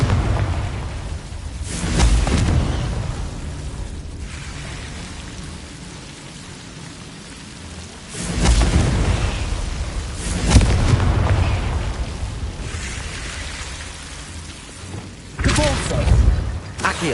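Several Confringo fire-blast spell explosions in Hogwarts Legacy, loud booming bursts spaced across the scene over a constant rain-like ambient wash, with some voice present in the background.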